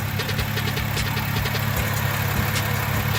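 A damaged Dodge Hellcat V8 runs at a rough, steady idle, a loud deep rumble with a throbbing pulse and a faint ticking knock layered on top throughout.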